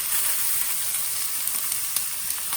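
Lemongrass pork chops sizzle steadily in a frying pan over slightly lowered heat. The hiss is close and bright, with a few faint pops and crackles, and no one speaks.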